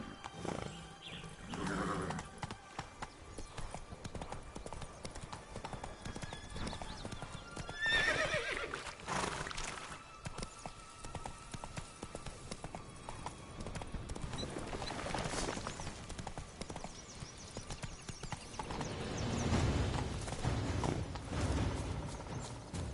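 Roach, a horse in The Witcher 3, gallops with steady clip-clop hoofbeats and gives a few whinnies, fairly quiet and set against an ambient game soundscape.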